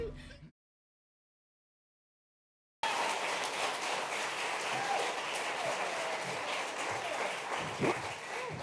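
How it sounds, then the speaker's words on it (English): Studio audience applause on a talk show, a brief burst cut off, then after a pause sustained dense clapping from a full crowd, steady and loud throughout. "That was such a nice round of clapping."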